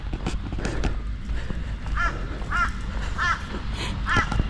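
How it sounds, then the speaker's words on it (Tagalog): A crow caws repeatedly outdoors in Australia, about four distinct harsh calls at an even pace, at moderate distance over a steady background rumble. "Uwak na humuhuni."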